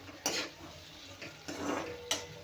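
Tomatoes roasting in a pan until mashed, quiet and close, with a few scraping spatula strokes and clinks against the pan over a faint low sizzle, no voices.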